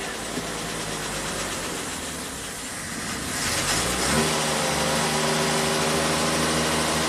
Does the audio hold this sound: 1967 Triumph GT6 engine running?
yes